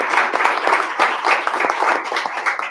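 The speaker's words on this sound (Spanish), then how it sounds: "les pido un aplauso para María, que tiene que dejarnos" A debate audience gives a warm round of applause for a departing participant, with dense, continuous clapping at close range filling the whole stretch.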